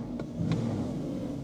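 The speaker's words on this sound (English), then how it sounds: "Start her up. The unmistakable Porsche Growler." A Porsche Boxster engine runs with a low, steady growl, holding a constant mid-range hum without strong rev peaks, close and moderately loud throughout.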